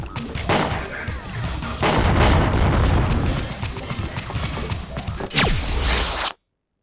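Video game gunfire and rocket launcher blasts fill a dense, loud barrage of shots and booms, with a bigger explosive burst near the end before the sound cuts off abruptly.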